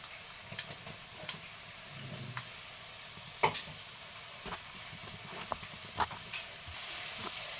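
Crushed garlic and ginger sizzle softly in a pan with a steady low hiss for Kerala-style rasa sadham, punctuated by a few sharp clicks and taps of a spoon. The sound is quiet, with no talking.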